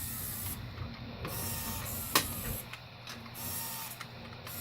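Motorized wireless car charger mechanism whirring quietly in short bursts, a soft mechanical buzz starting and stopping several times with a sharp click midway, faint and close.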